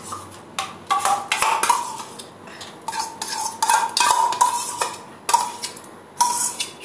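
Hand whisk beating strained yogurt in a bowl for Bengali mishti doi, giving a run of bright scraping and clinking bursts in uneven strokes, close and fairly loud, with no talking.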